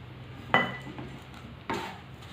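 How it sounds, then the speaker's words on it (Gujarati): Semolina for sheera tips into hot ghee in a pan, and a spoon scrapes and clinks against the metal in two distinct strokes, close and moderately loud with no talk. "આવી રીતે રવાને સતત હલાવતા રહેવાનું છે।"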